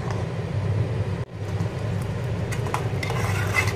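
Suji halwa is stirred steadily in a pan over the gas, with a spoon scraping and rasping against the metal over a low background hum and a faint sizzle, interrupted by one brief dropout.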